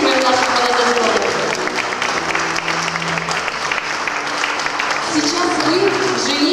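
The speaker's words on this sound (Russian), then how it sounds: "Аплодисменты и поддерживаем нашу молодежь." Guests at a Russian wedding registration ceremony clap loudly and continuously, a dense, sustained round of applause with voices and tonal sounds mixed underneath.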